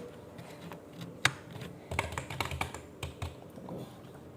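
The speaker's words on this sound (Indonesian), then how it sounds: "ASMR keyboard murah versus keyboard mahal" Computer keyboard keys are typed at close range in a quiet room, a sparse run of soft clicks and taps that thicken into quicker bursts partway through, with no voices.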